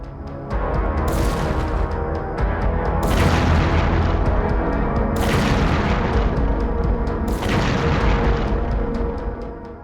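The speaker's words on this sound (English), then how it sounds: "geolocated footage shows a Ukrainian tank firing at close range into their positions" A Ukrainian tank fires its gun at close range in the ruins of a settlement, giving four loud booming blasts spaced about two seconds apart over a constant heavy rumble.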